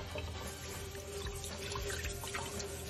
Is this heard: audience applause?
no